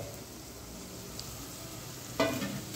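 Chili powder, turmeric, jaggery and fresh coriander fry in hot oil as a masala, giving a steady low sizzle that swells into a louder crackling burst near the end.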